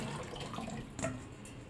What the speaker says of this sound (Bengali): এবার এটাকে ভালো করে একটা ঝুড়িটা ঢেলে নেবো।